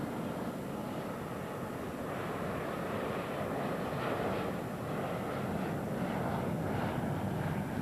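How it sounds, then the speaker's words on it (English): A jet airliner passes low overhead on approach to Miami International Airport, about two miles away, as a loud, steady, broadband roar that fills the whole clip with no one speaking. "A jet on its way to Miami International Airport. And it sounds close."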